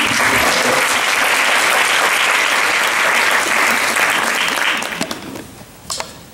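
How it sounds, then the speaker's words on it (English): Loud, dense audience applause for a woman at a scholarship event, steady for several seconds before tapering off into a few scattered final claps. "let's give some applause to her"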